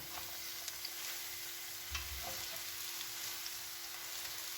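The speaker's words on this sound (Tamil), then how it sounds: "உப்போடு சேர்த்து வந்து நாங்கள் ரெடி பண்ணி வச்ச பீட்ரூட்டிலேயே சேர்த்துக்கொள்வோம்" Salted beetroot stirred in a pan, a faint steady sizzle beneath occasional soft scrapes of the spoon, quiet and close with no voices.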